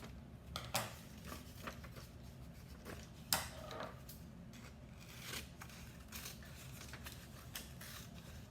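Scissors snip corn husks for a craft, a few quiet, sparse cuts spaced out over a faint background with no speech.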